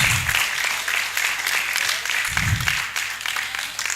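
Steady applause fills the hall as a conference audience at the 77th Annual New Year School claps for several seconds, even and moderately loud, with brief low rumbles underneath.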